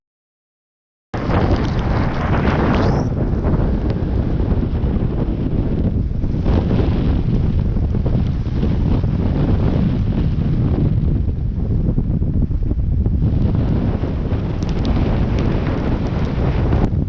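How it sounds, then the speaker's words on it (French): Strong wind buffets a Mini class sailboat at sea, a loud, steady roar of gusting air and microphone wind noise with rushing water underneath, continuous for the whole stretch after a brief silent start. "il y a beaucoup de vent encore."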